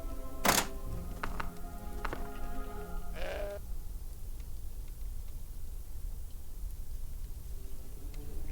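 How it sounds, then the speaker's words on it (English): A goat in the video game Deponia Doomsday bleats in a few short, close calls over the opening seconds, followed by a quiet stretch. "That's not a training bag. That's a goat."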